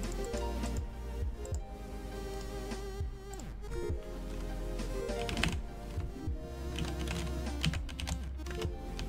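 Rapid, steady clicking of a computer keyboard as someone types, close and continuous, layered over a busy background of sustained tones and other activity.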